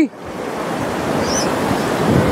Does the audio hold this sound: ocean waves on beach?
yes